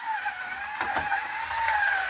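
A restored Scalextric Mini 1275GT slot car runs fast on the track, its motor giving a steady high whine with a few brief clicks and rattles as it passes, close and alone without talk.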